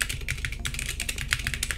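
A computer keyboard clatters with quick, irregular keystrokes, close and clear, with no voices over the typing.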